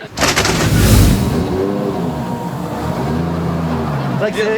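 A noisy vehicle roars loudly nearby with a rough, throbbing engine that holds steady for several seconds, then fades, while a voice speaks over it.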